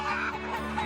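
A native Korean chicken clucks and croaks close by on a farm, a short, throaty burst of fowl calls lasting under a second, with no talk over it.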